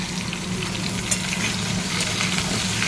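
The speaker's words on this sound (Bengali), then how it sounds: "পেঁপেটা দিয়েও আর একটু নাড়াচাড়া করে নিই" Fried potatoes and papaya sizzle steadily in a pan while being stirred, a constant close crackling hiss with faint scraping.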